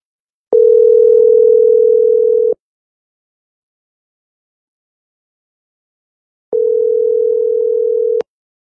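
Two long, steady telephone tones of about two seconds each, loud and clear, separated by several seconds of silence, as a call is placed to a cellphone.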